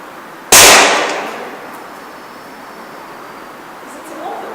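A single sharp crack from an ASG CZ P-09 gas blowback airsoft pistol fired in an abandoned building, loud and close, with a reverberant tail that fades over about a second.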